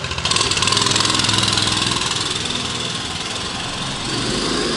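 A 1972 Rupp Hustler mini bike engine runs steadily and loudly up close, a continuous buzzing drone with a slight waver in pitch and no speech over it.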